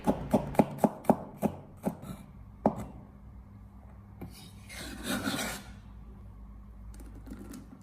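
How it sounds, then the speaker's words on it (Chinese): Knife cutting five or six garlic cloves into thin slices on a board: a quick run of sharp, evenly spaced chops up front, then a few scattered strokes and a soft scraping rasp, close and clear with no talking. "准备5到6颗大蒜，给它改刀切成蒜片"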